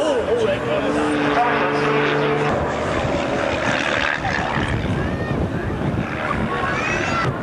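Aerobatic aircraft performing a vertical hover and tail slide at an RAF Valley air show on Anglesey in 1991, a steady loud engine roar that carries throughout, heard under a commentator talking.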